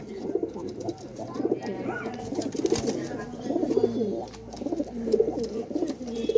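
Pigeons in a loft coo steadily in low, throaty, overlapping rolls, close by and continuous, with faint voices in the background.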